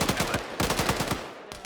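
Rapid bursts of automatic machine-gun fire from the Arma 3 military shooter in a winter setting, two loud close strings of evenly spaced shots with a brief pause between them, no voices over the shots.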